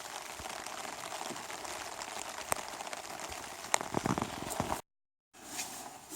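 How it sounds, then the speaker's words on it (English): Rain falls outdoors at Bark Lake, a steady, close patter of drops. The hiss is broken by a few sharper taps and cuts out briefly near the end before resuming. "Still raining out."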